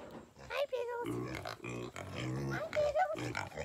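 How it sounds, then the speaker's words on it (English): Pigs on a homestead grunting and oinking nearby at feeding time, low snorts mixed with higher squeals, alongside a voice talking over them. "time to get up and feed the pigs"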